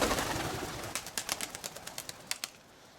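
Roller pigeons, including an old hen of nine or ten, with a string of sharp wing claps and flutters in the open air, some broadband hiss at the start followed by about a dozen quick, separate bursts.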